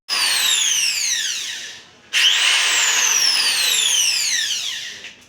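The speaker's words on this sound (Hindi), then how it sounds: "तो अब ये ड्रिल एंड ऑल कर रहे हैं।" Power drill running during a new air conditioner installation at home, two long loud bursts with rising and falling pitch separated by a brief pause, close by and without talk.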